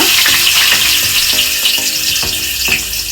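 Fenugreek seeds and onion fry in hot oil for an Andhra-style fish curry, a close, steady sizzle with occasional stirring clinks and scrapes throughout.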